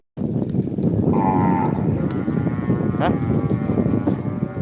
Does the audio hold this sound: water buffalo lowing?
yes